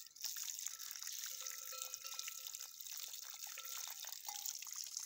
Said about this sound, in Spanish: El agua nunca cansa de verla